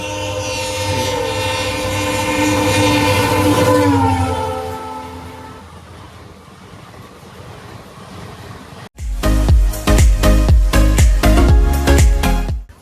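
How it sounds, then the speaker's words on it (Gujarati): A train approaches at Botad station in Gujarat, sounding loud horn blasts while its engine rumbles. After a short pause, heavy rhythmic clattering of wheels over rail joints passes up close. "બીજી ટ્રેન આવે છે બતાવું તમને"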